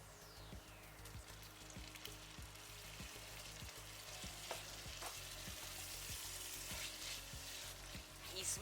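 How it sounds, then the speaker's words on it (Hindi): Thinly sliced tomatoes added to sautéed onions in a pan over medium heat, sizzling and frying with regular stirring scrapes, soft and close with no talking. "अब हमारे जो ऑनियन है वो सौते होके रेडी है। अब उसमें मैं ये जो कटे हुए टमाटर है वो मैं डाल दूँ।"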